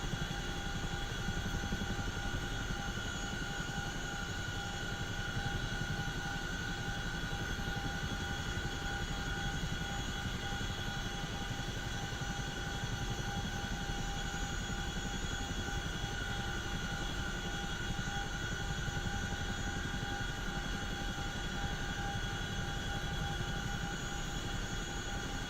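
A simulated Chinook twin-rotor helicopter drones in a flight simulator game, a steady engine and rotor hum with tonal whine, constant and unbroken for the whole stretch at moderate level with no talk.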